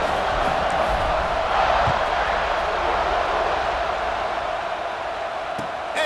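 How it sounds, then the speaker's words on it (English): Stadium crowd noise in the College Football 26 video game, a steady wide roar of many voices held at an even level throughout, with no single voice standing out. "Do you think this crowd's going to get loud when their defense comes on the field?"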